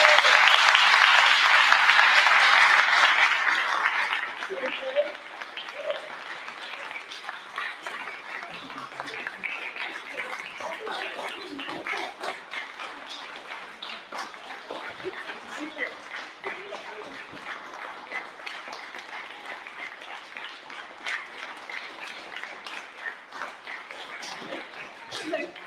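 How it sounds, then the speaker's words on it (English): Guests at an exhibition launch at Fulham Palace break into a loud round of applause that lasts a few seconds and then fades, giving way to quieter room sounds and people talking. "Round of applause, please."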